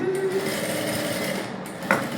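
A sewing machine stitching a princess cut blouse runs in a steady, close mechanical whir, with a brief sharp click near the end and a faint voice in the background.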